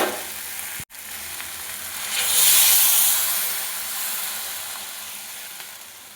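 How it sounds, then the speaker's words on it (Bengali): Water poured into a chickpea curry already sizzling in a pan, a sharp knock, then a steady fry that swells into a loud, steamy hiss before settling into a gentler bubbling sizzle. "এবার এর মধ্যে দিয়ে দেবো জল।"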